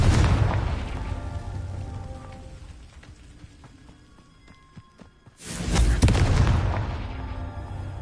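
A Confringo blasting curse from a Harry Potter-style video game erupts in a loud, broad explosive burst near the end, following a decaying rumble and a quieter lull, with no talk over it.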